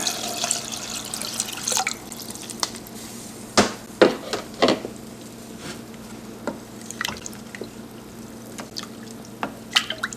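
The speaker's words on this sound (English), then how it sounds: "And we add our water." Water is poured into a pan of rice with chicken broth for pan-fried chicken and rice. Scattered splashes and drips sound over a quiet, steady hum in a kitchen.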